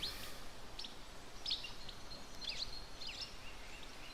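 Birds chirp outdoors in a handful of short, bright high calls spaced across a steady hiss of background noise, moderately near and alone.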